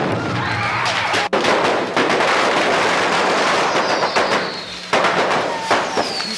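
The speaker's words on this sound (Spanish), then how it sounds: "pues, una tremenda explosión." Fireworks explode at a pyrotechnics exhibition in Calkini, Campeche, with a loud, dense barrage of crackling blasts and sharp bangs, rapid and continuous, punctuated by a few bigger booms.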